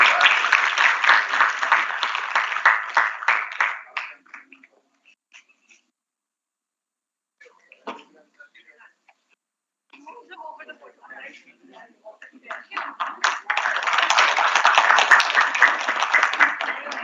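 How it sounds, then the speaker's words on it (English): Audience at a college economics conference giving a round of applause, dense steady clapping that dies away into near silence with a few scattered claps, then rises again into full applause toward the end. "Please give a round of applause for Prithviraj and Ankit."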